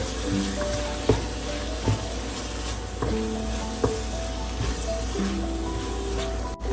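Tomatoes and green chillies sizzle steadily in a pan with garlic and ginger, a close continuous fry broken by light clicks of a stirring spoon against the pot.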